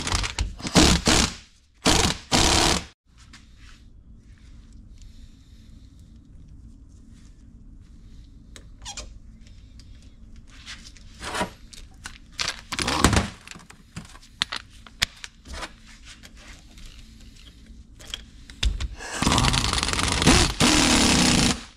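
Reusable hydraulic hose fitting being installed on a hose by hand, with a few loud metallic clunks and cracks at the start, then scattered quieter knocks and scraping, and a burst of loud rustling handling near the end.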